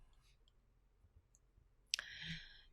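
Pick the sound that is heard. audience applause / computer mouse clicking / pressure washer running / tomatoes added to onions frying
computer mouse clicking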